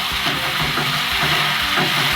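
Okra and softened onions fry in a pan with a steady, loud sizzling hiss and faint stirring underneath, continuous throughout with no talking.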